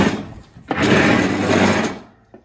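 A Cub Cadet XT1 mower deck is pulled out from under the tractor with a single, loud, close grinding scrape lasting about a second, then a faint clunk at the end.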